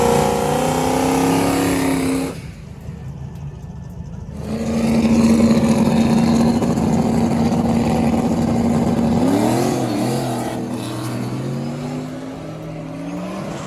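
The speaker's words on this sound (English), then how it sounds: "since he has no trans brake, he's basically gonna be foot braking it" A small-tire no-prep drag racing car without a trans brake, foot-braked at the line at Darlington Dragway, idles loudly, briefly cuts out, then roars into a long sustained launch whose engine pitch climbs and fades off as it pulls away.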